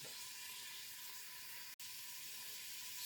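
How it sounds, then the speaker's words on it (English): A pan of portobello and button mushrooms, carrots and onions sautéing for canned pot roast sloppy joes gives off a faint, even hiss that runs without a break apart from one brief dropout, with no voices. "we're all done sauteing up the portobellos, the button mushrooms, the carrots, and the onions"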